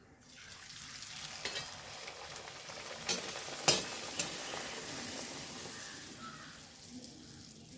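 Puris deep-frying in hot oil, a steady close crackling sizzle with a few sharper pops and spits throughout, no talking.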